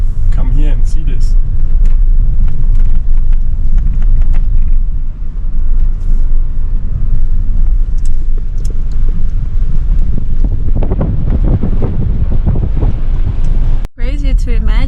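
A car drives along a sandy desert road in the Atacama, a loud rumbling engine and heavy wind buffeting throughout, with people talking over it.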